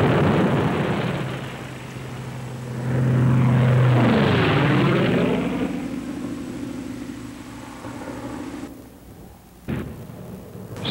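WWII Airacobra and Thunderbolt fighter planes roar past, their propeller engines loud and close and swelling to a peak before the droning pitch falls as they move away.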